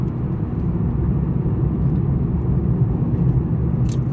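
A car driving along a road in New Mexico near Ruidoso, with a steady low rumble and whir of engine and tyres that stays even and close from inside the vehicle, with no talk.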